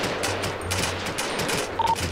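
Rapid bursts of gunfire crackle continuously at close range in GTA 5, dense and loud with no pauses.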